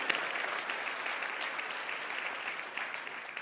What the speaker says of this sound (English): you give yourself a round of applause on that one